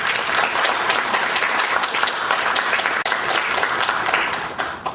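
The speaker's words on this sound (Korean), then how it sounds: "참석자 한 분 한 분께 감사의 박수를 부탁 올립니다" Audience at a formal gathering applauds in thanks, a dense steady wash of many hands clapping together, close and sustained with no talking over it.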